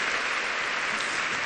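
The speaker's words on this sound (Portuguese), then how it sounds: "Se você foi edificada, aplauda a palavra de Deus que falou ao seu coração nessa noite" Church congregation at a women's worship service applauding together, a steady dense wash of clapping that fills the room without breaks and no voices standing out.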